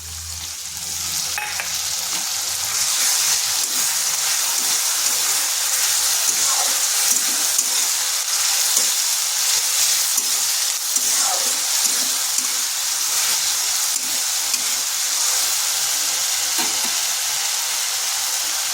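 Tomato paste sizzles in hot oil in a pan while cooking egg and potato curry, a steady, loud, hissing fry with faint stirring scrapes throughout.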